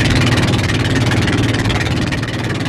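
A small motorboat engine drones steadily and loudly at sea throughout, a continuous rumbling putter with no voices.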